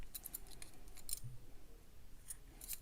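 Scissors snip through crochet yarn in a few quick, light cuts, soft and close, with no talking and only faint room noise in between.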